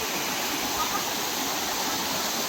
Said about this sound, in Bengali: ঝর্ণাটা এত সুন্দর, কিন্তু না জল ঘোলা